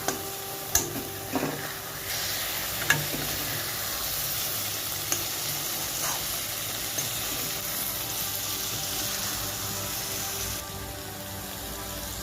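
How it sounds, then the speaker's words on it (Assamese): Raw fish curry with tomato sizzles steadily in a pan while being stirred, a constant frying hiss with a few sharp clicks of the utensil against the pan near the start. "এতিয়া অকণমান লাৰি দিছোঁ এইখিনি"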